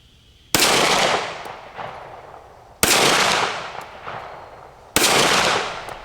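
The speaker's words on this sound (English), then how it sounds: "I'm sure this gun was not designed to shoot a plate at 80 yards" Three sharp pistol shots from a Springfield Echelon fired at a steel plate about 80 yards away at an outdoor range, each a loud crack with a long echoing decay, spaced roughly two seconds apart.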